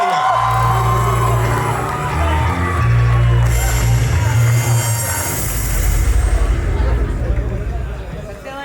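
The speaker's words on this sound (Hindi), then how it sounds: "filmmaker extraordinaire Vishal Bhardwaj जी के लिए जोरदार तालियां." Crowd cheering and whooping fill a film trailer launch press conference, loud and sustained over steady music, with voices mixed into the din.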